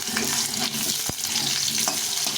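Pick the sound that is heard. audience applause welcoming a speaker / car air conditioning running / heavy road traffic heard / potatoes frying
potatoes frying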